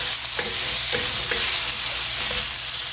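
Half a pound of thick cut hickory smoked bacon frying in a skillet, a loud continuous close sizzle with a few soft scrapes of stirring.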